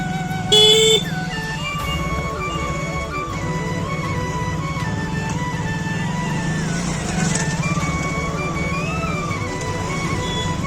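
Busy road traffic near Bhilat Baba Dham in Nagalwadi, Madhya Pradesh, keeps up a dense engine drone, with repeated car horns tooting and blaring nearby throughout.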